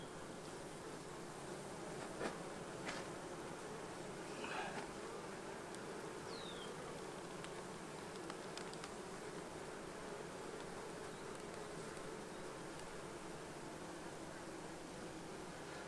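Honey bees hum steadily around green and blue beehives, a constant close insect drone with a few brief louder passes, at a hive being checked for small hive beetle.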